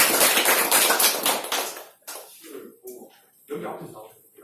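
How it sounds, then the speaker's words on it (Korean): Students clap together in a Korean high school social studies class taught by a student teacher, a loud burst of dense applause that fades after two seconds into a teacher's voice speaking. "뭐 일어서서 뭐 발표는 여러분 박수 한번 주세요"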